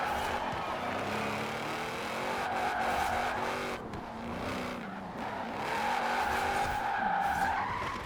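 Shelby 1000 in Forza Horizon 4, fully tuned, drifting on the road: steady loud engine roar with continuous tire squeal and skidding that swells and dips throughout, no talking.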